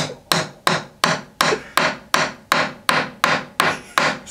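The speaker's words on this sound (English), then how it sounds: "we're going to try and break this one with a screwdriver" Screwdriver repeatedly striking a rock-hard jawbreaker candy: eleven sharp, evenly spaced hard knocks about every 0.4 seconds, close and fairly loud, each with a short ringing decay and no talking.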